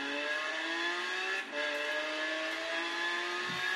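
A Lamborghini Aventador in a video game accelerates with a rising engine whine, stepping through gear changes in two or three climbs, steady and fairly close with no talk.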